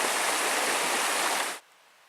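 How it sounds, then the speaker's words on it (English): A stream cascades down a hillside beside a campsite on the Superior Hiking Trail, a loud, continuous rushing of water close by that cuts off abruptly near the end. "You hear the cascading stream down the hill."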